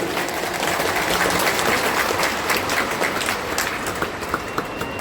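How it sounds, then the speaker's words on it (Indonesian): A large crowd at a political gathering applauds continuously, a dense sustained roar of clapping that eases slightly toward the end. "Tepuk tangan untuk semua yang memilih hadir di sini."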